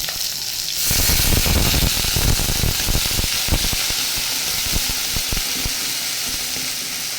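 Water poured into a pan of fried poa fish and vegetables sets off a loud hissing sizzle about a second in, which settles into steady bubbling and crackling with no voices.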